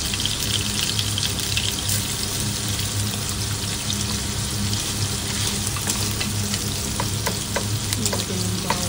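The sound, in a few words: garlic frying in a pan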